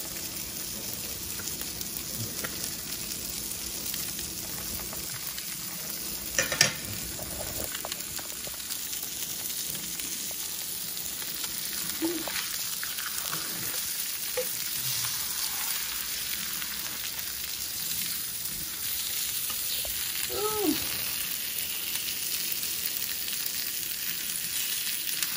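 Poultry sausages, eggs and hash browns fry together on a breakfast griddle, giving a long, even crackling sizzle like light rain, with a few faint clinks and movements and no voices.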